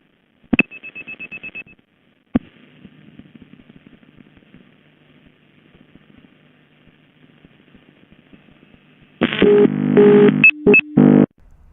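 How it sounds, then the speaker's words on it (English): A telephone line on a Ukrainian or Russian crossbar exchange clicks and buzzes in short dial pulses, then a faint hum carries on before a loud burst of harsh switching tones and clatter. "here's a recording of the remote being dialed."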